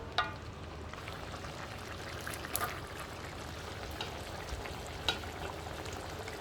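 Carrot pieces dropped into a pan of sizzling red chili paste, a soft continuous frying hiss with a few light clicks and stirring knocks, fairly quiet throughout.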